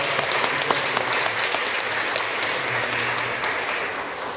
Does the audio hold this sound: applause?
yes